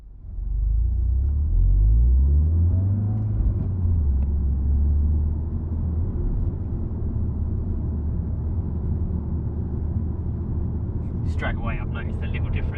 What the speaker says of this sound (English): This is just more pure, just general engine sound, really.